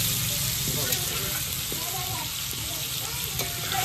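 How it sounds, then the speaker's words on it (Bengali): Potatoes sizzling in hot oil for chicken curry: a steady, dense frying hiss close by, with faint voices talking in the background. "আলু ভাজা হচ্ছে"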